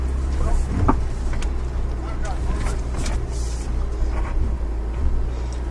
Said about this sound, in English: I'm just letting the car crawl up these rocks.